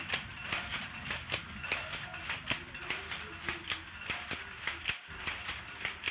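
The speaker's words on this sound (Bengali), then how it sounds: "ভেতরে মেশিন বন্ধ হয়ে গেছে আবার দুটো মেশিন চালিয়ে দিলাম" Handloom machines weaving Shantipur cotton sarees in a workshop, two machines running with a steady, fast clacking rhythm of regular clattering beats throughout, continuous and fairly close.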